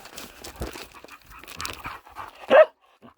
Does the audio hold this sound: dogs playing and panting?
yes